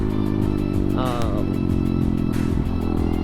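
An ADV Moto 190R motorcycle engine runs loudly and close up, a steady drone with a brief rev in the middle, while someone talks over it.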